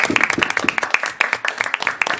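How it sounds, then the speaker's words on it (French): A studio audience gives brisk, quick clapping that stays close and steady for a couple of seconds, with individual claps standing out in a rapid, uneven rhythm. "Nous allons les applaudir bien fort"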